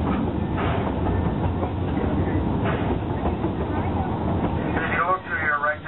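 The Omaha Zoo Railroad train rolls along its rails with a steady rumbling clatter and rhythmic wheel noise, close and continuous, while a voice talks over it.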